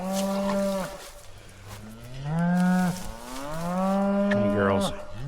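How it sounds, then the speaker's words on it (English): A herd of cattle, with cows in heat and under stress, moos loudly and close by: several long, drawn-out calls that overlap and rise and fall, with no talk over them. "there's some stress in the herd because of the cows being in heat."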